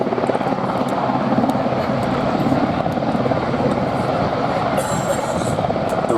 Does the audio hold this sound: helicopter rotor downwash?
yes